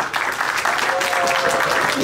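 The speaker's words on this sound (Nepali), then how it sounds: "यहाँको जोरदार ताली एकपल्ट पुगाए" Audience applause at a Nepali song release event, a dense steady wash of clapping from a crowd that fills the whole moment at even loudness, with a faint tonal whistle or cheer partway through.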